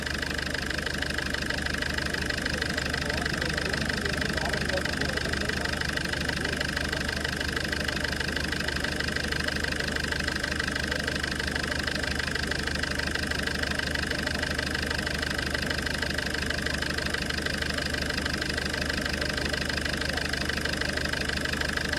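Steady idle of a Ford Figo car engine with about 2.5 lakh km on it, running after a carbon cleaning treatment, a continuous even hum with a faint mechanical tick, close and unchanging throughout.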